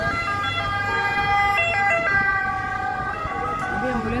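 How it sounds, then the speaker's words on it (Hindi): An ambulance siren wails in a steady, wavering tone, then steps to a new pitch as it passes on a street in Messina, Italy, with traffic rumble beneath and no talk. "एम्बुलेंस आ रही थी, इतनी आवाज़ दे गई, मैं रुक गया था।"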